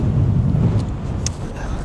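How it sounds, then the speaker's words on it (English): Gusty wind at West Bay buffets the microphone with a heavy, low rumbling roar that swells and eases, loud and close, with faint brief ticks of background noise above it. "whoa, the wind"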